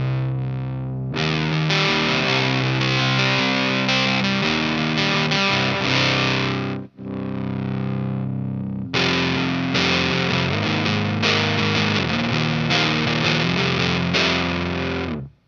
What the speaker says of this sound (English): One thing I have heard about fuzz face circuits is that they're supposed to clean up a little bit when you roll the volume knob back.